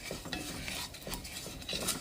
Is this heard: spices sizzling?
yes